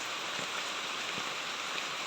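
Rain comes down as a typhoon approaches, a constant soft wash of falling drops with a few gentle thuds of heavier drips, even in level and free of speech.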